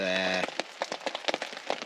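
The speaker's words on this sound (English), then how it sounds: "it's daylight and it's still bloody raining" Rain patters and drips on a forest camp in daylight, with scattered soft taps of varying loudness following a brief tonal hum at the start.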